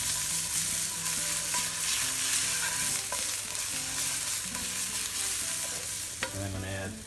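Tomato paste browns in a hot pan, a close, even sizzle with intermittent stirring scrapes and a brief clatter near the end.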